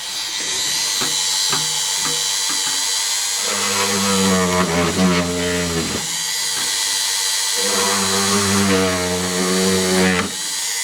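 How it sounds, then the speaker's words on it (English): A high-pitched electric drill whines close by in long bursts, boring holes in a TRIAD radio cabinet, its pitch dipping under load, with short pauses between runs. "So we'll go ahead and start the drilling process."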